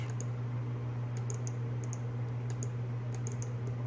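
Computer keyboard and mouse in use while copying and pasting a floor plan for an eight-storey building, with small scattered clicks and keystrokes in brief clusters, faint over a steady electrical hum, no talk.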